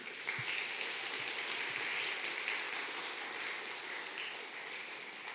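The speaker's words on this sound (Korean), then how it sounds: "수고하신 분들을 위해서 박수 한번 쳐주실래요?" A church congregation at a Sunday service applauds its volunteers, a dense, steady clapping from a large crowd that holds at an even level throughout, with no talk over it.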